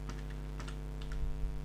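Typing on a computer keyboard during a programming session, with a handful of separate keystroke clicks spread across a couple of seconds, close but soft over a steady low hum.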